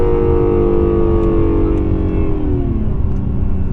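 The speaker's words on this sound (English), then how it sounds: "I'm hoping you can hear the blow-off sound from the turbos" A 2017 Acura NSX in Sport Plus mode accelerates hard with a loud, steady twin-turbo engine drone whose pitch climbs and then drops, suggesting blow-off from the turbos near the end.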